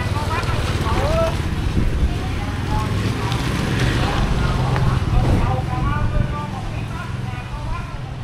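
Wind and rain create a steady roar at an outdoor market in Cái Sơn, Phụng Hiệp, Hậu Giang. The noise stays loud and constant throughout, and people talk in the background.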